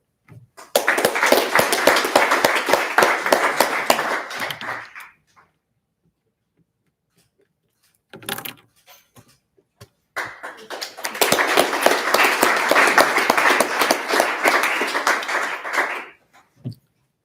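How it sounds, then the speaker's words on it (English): Two bursts of audience applause at a National Honor Society induction ceremony, each several seconds of dense clapping separated by a quiet gap holding a few scattered claps and a brief voice. "I'd really love it if all of you gave yourself another round of applause"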